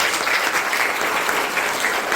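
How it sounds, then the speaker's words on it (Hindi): Loud, sustained applause from a group of students at a school camp, dense steady clapping for the whole stretch with no speech. "शिवांश के लिए जोरदार ताली"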